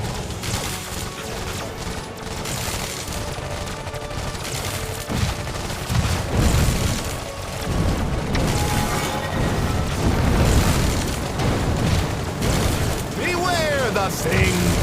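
Grenade blasts and gunfire in the Iron Marines strategy game, a dense stream of booms and pops under continuous music and game effects, with voice lines heard throughout.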